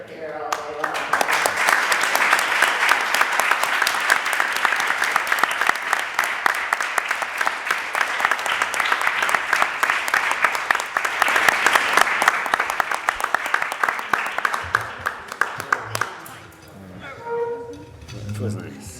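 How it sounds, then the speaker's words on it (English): A conference audience at an evolutionary health event in London applauds the speakers with sustained, dense clapping for about fifteen seconds, then it fades out as voices and a few scattered claps remain. "can we give the speakers another round of applause?"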